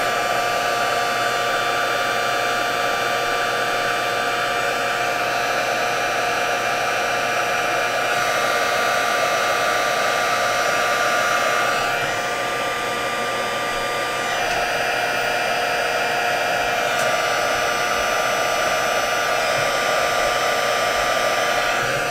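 Heat tool blowing hot air to melt clear embossing powder on black cardstock, a loud continuous fan-like whoosh and whine that holds steady for over twenty seconds.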